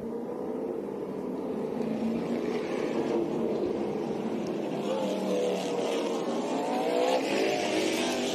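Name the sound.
race cars starting a race at South Boston Speedway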